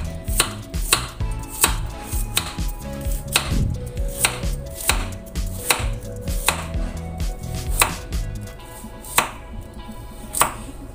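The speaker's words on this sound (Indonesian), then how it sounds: "Lalu kemudian saya iris kecil-kecil, sama seperti mengiris kolnya ya, jangan terlalu tebal-tebal." A knife slices carrots into small pieces on a cutting board for vegetable fritters, giving a run of crisp, close chopping taps at an uneven but steady rhythm with no talking.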